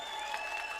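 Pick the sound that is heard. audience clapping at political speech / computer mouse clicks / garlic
audience clapping at political speech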